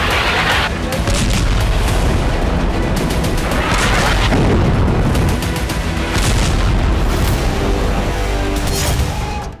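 In Israeli strikes on high-rise buildings, bunker buster bombs set off loud, continuous booming rumbles and crackling blasts, heavy and sustained with a few sharper bursts.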